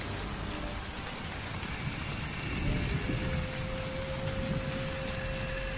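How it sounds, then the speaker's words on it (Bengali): Heavy rain pours steadily on a village night in a spoken horror drama, a dense, even wash of drops with a faint low rumble beneath and no voices. "তখনও মুষলধারে বৃষ্টি পড়ছে।"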